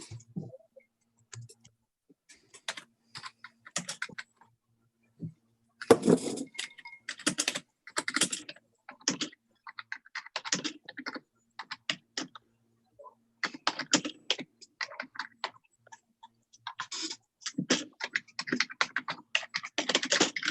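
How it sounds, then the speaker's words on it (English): Loud, close typing on a computer keyboard with a rattly key, irregular clusters of sharp clicking keystrokes broken by brief pauses, with no speech over it. "I can hear somebody typing very loudly."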